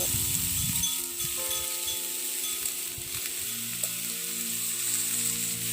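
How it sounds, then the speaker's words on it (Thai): Ham and blanched spinach stir-fried in a pan, a steady loud sizzle running the whole time with scraping stirring strokes at the start and around the middle. "ผัดต่อเลยค่ะ"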